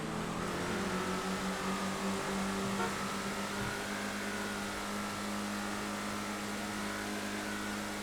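A compact car in a GTA race revs hard out of a hairpin, its engine droning loud and steady with a rising harmonic whine throughout, no voices over it.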